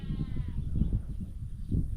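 Sheep loose on a farm bleat in a wavering, nasal call at the start, fairly close, over a rumbling outdoor background with no talking.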